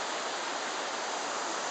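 Water rushes steadily through a canal lock, a dense, even hiss of flowing water heard close and unbroken.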